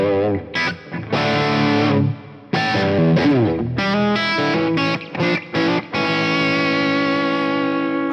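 Heavily distorted electric guitar playing a simple rhythm part through a Fractal amp modeler set to a Mesa Mark IIc+ model, loud chugging chords with short muted gaps, then a long sustained ringing chord to the end.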